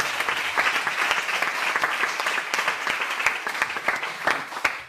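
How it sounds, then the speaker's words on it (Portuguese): A church congregation applauds loudly for the Lord, dense sustained clapping filling the room with a steady, energetic wash and no talk over it. "dá uma salva de palmas para o Senhor, mas é para o Senhor bem forte"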